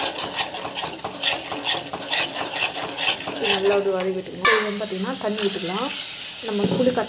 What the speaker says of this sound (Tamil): நல்லா ஒரு வதக்கி விட்டுக்கணும்